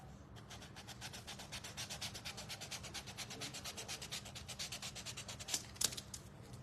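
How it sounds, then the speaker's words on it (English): A wooden flamingo-couple insert for a bushel basket base is hand-sanded with steady back-and-forth rubbing strokes, close and fairly quiet, continuous and rhythmic with a couple of louder knocks near the end. "I'm gonna also sand that one."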